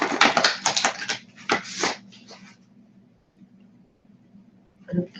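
A deck of cards is shuffled in a quick run of soft rapid riffling bursts over about two seconds, then a quiet hum and one last faint rustle follow.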